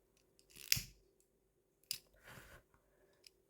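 Scissors snip off a crochet yarn tail in a quiet room, with a couple of soft, close cuts separated by silence.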